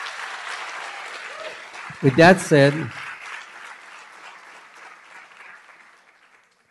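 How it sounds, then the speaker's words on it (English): An audience at a 2019 Gateway to College graduation ceremony applauds in a broad, sustained wash of clapping that gradually fades out, while someone speaks briefly over it near the middle. "So please give them a round of applause."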